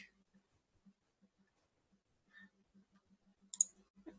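A computer mouse clicks softly a handful of times in an otherwise quiet room, with faint desk and keyboard noises under the clicks.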